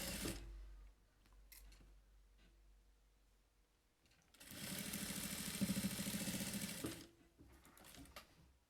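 A sewing machine runs in two stretches while stitching a zipper onto a children's pouch: a short burst at the start, then a steady, louder whirring run in the middle, with quiet handling noise between.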